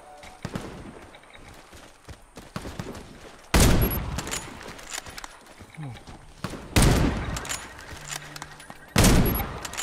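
Three loud blasts from an AT308 rifle in the Warface video game, fired through wood, each a sharp crack with a ringing tail, spaced a few seconds apart, with quieter game noises and clicks between the shots.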